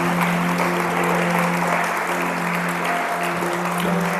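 A church congregation claps during a Sunday service in steady, continuous applause with a sustained tonal hum beneath it, loud and close throughout.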